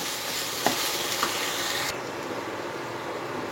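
Spice paste with a few curry leaves fries gently in a pan on low heat, giving an even, soft hiss with a couple of faint ticks, close and fairly quiet with no voices.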